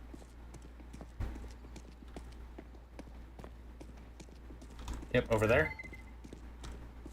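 Footsteps in the shooter game Counter-Strike, quick rhythmic clicky steps running steadily under a player's voice, with a louder burst of activity near the end.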